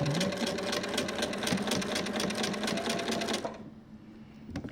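A sewing machine stitches steadily through fabric with a fast, even mechanical whir for a few seconds, then stops, leaving a quiet pause with a faint click near the end.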